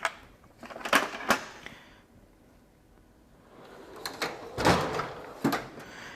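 A tool box drawer slides open in two bursts, each a rattling metallic scrape with sharp clicks, close and moderately loud, separated by a quiet pause.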